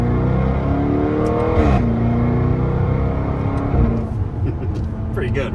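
A Jaguar F-Type's exhaust drones loudly from inside the car under part throttle, its pitch climbing, then dropping sharply at a gear change before climbing again, with a pop near the end.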